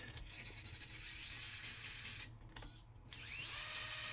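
A Furitek brushless motor in an FCX24 RC truck whines at high pitch, running steadily, then cutting out briefly twice before revving back up, fairly close and with no talk.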